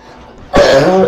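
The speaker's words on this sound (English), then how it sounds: "Cough." A single sharp, loud cough bursts out close to the microphone after a moment of quiet, short and abrupt with no talk around it.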